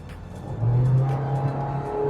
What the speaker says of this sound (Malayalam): 4000 RPM വരെ റബ്ബായി.